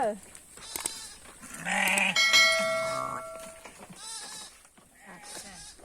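Goats bleat on a goat and sheep farm, several loud wavering calls close by and overlapping, with people talking in between and a faint bell-like ding.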